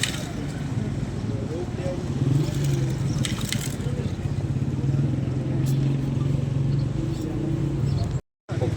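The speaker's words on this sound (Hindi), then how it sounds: "बुशरा बीबी अडियाला जेल पहुंची हैं और अब अडियाला जेल के अंदर इस वक्त उनकी जो है गाड़ी दाखिल हो रही है गेट से, मरकज़ी दरवाजे से।" A car drives through the main gate into Adiala Jail under heavy security. A steady engine rumble with some crunching and clatter runs under background voices, with a brief silence near the end.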